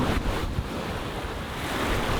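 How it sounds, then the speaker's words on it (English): Ocean waves and wind roar steadily around a sailboat crossing the Pacific near the equator, a loud broadband wash with gusting wind buffeting the microphone and no voices. "The waves are actually pretty mellow."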